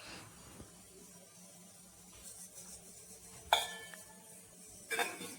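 Idli plates set into a pot of steaming water: soft background hiss, then two sharp metallic clanks of plates meeting the pot a second or so apart.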